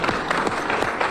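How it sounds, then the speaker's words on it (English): A political rally crowd gives a warm round of applause, a dense, continuous wash of clapping filling the whole brief moment. "Give him a warm round of applause."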